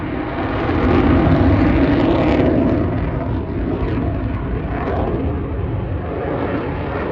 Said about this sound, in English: This person stopped on the side of the road when they noticed a jet dropping flares above them.